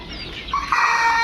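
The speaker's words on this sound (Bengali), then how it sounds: "দেখুন, সুস্থ সবল মানসম্মত লেয়ার মুরগির বাচ্চাগুলো" Layer chicken chicks give a quick burst of high, shrill cheeps up close. The calls rise after a quiet start and last about a second.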